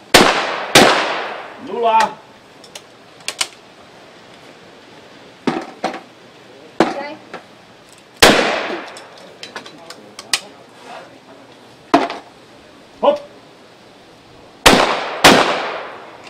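Shotgun shots at clay targets during a hunters' shooting competition outdoors, about a dozen sharp single reports spaced irregularly across the clip, some louder and closer than others, with a voice briefly audible between them.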